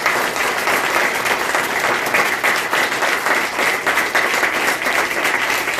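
Church congregation clapping in thanks during a worship service, a sustained, fairly loud burst of many hands beating together evenly from start to finish.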